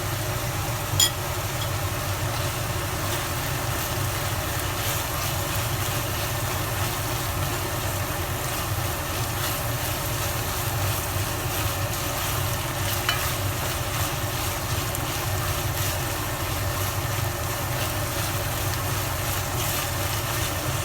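Onions and tomato paste fry in a pan while being stirred, a steady close sizzle with low rumbling undertone running continuously without pause.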